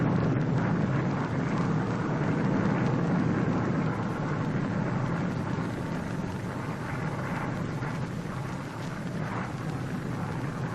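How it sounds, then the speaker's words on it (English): Drone airplane droning over the target fleet after the 1948 Operation Crossroads atomic test, a steady, dense engine roar mixed with wind-like rushing noise that holds unbroken throughout. "Here is one of the drone airplanes flying over the target fleet after the blast."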